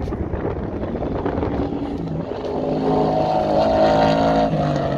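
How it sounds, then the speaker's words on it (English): Race car lapping an autocross course at the USCA event in Fontana, engine droning steadily with rising pitch and load, wind buffeting the microphone throughout, no voices. "I think this is the fourth and final lap for Chad."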